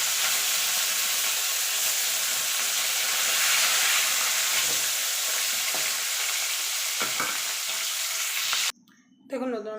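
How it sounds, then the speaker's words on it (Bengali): Rohu fish pieces fry in hot oil with a loud, dense, continuous sizzle and occasional stirring knocks. It stops abruptly near the end, where a voice speaks briefly. "এবারে একটু করে লাল লাল করে মাছগুলো আমি ভেজে নেব"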